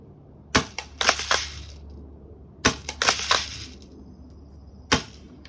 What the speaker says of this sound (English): So let's take a few shots with this gun, and I've got 4 pop cans set up down there at 50 feet.